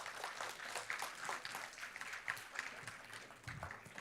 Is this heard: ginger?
no